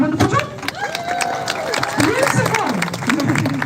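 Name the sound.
audience cheering and clapping at sea lion show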